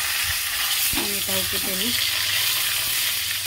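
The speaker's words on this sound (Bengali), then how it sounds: "এদিকে বেগুনটা ভাজা হোক" Eggplant fries in a hot pan with a steady, close sizzle, and a brief spoken phrase rises over it partway through.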